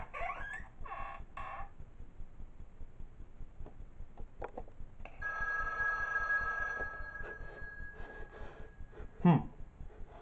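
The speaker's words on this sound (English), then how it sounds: "so we get a phone call." In the horror video game Five Nights at Wario's, a phone rings with a steady electronic tone lasting about two seconds midway through, quiet against a low game ambience, followed by a short sharp noise.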